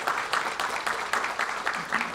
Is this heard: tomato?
no